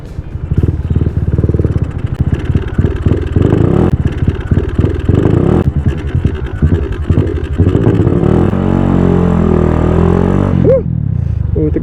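A Suzuki Raider motorcycle engine runs loud and close, with choppy, rapid firing pulses that rise into a sustained rev before easing off near the end.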